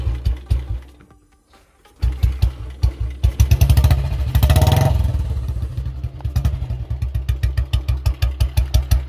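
Restored Royal Enfield Bullet motorcycle kick-started: a few chugging strokes, a short silence, then the engine catches with a revving burst and settles into a loud, steady thumping idle.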